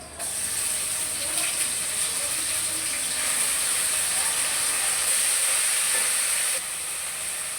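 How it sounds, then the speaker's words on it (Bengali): Ginger-garlic paste hits fried onions in hot oil while cooking pangas fish, giving a steady close sizzle and hiss that holds for several seconds before easing slightly. "পেঁয়াজ ভাজা হয়ে গেছে, এখন দিয়ে দেবো আদা রসুন বাটা।"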